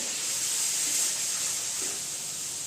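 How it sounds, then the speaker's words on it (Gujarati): Buttermilk poured into a hot pan of tempered onion and tomato for Kathiawadi vagharelo rotlo, giving a steady sizzling hiss that holds evenly throughout at close range, with no talking. "હવે આપણે એમાં છાશ નાખી દઈશું"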